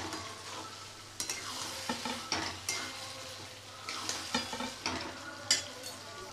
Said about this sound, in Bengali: এবার আমি রাজমাটা সহ একটু ফ্রাই করব ভালো করে, যাতে রাজমার ভেতরে নুন মশলাটা ঢোকে।